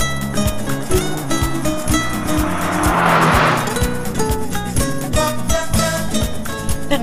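A car in a film driven fast, its tires squealing in a swelling screech mid-clip over an insistent rhythmic music track with heavy pulsing beats.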